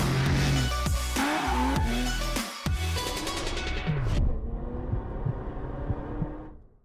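A 2020 Mazda MX-5 Miata Club RF convertible drives with a steady, close engine and road roar. The sound shifts and eases toward the end. No one speaks.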